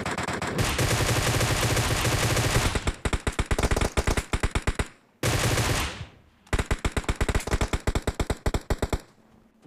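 Gunfire in the video game PUBG on the Vikendi map, loud sustained automatic bursts followed by rapid single shots, with a short pause and a second run of fire, close and without talk.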